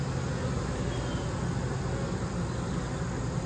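Honey bees flying around a hive, a dense continuous buzzing drone that holds steady and fairly loud throughout, with no voices.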